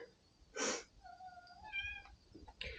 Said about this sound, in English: And that's the kitty you hear.